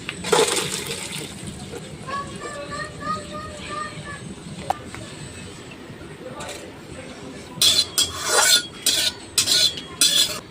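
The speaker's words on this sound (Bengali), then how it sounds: "এখন আমি এই জলটা এই সুপড়িটায় ঢেলে দেবো।" Water from boiled green jackfruit is poured into a container in a home kitchen, heard as splashy, uneven bursts near the end, following a stretch of talking and clattering.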